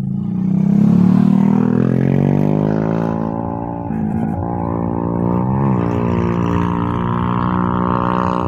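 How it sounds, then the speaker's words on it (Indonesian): A motorcycle travels along a mountain road, its engine tone rising and shifting as it approaches and passes from behind, loud and close throughout. "di belakang ada motor, silahkan nyayap duluan"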